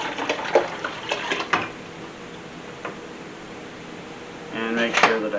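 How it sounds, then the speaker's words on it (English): Brine spices and liquid are poured into cold water in a bucket while making corned beef: light clinks and knocks under talk, then a brief, close splashing pour near the end. "And I'm going to add all of this to the cold water."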